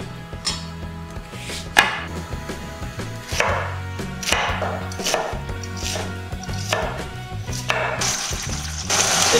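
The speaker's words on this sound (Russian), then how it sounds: "мы нарежем мелко лук" A knife finely chops onion on a cutting board, giving a close series of sharp, uneven taps that come in quick bursts with short pauses, with no talking.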